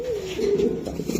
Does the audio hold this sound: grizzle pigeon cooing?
yes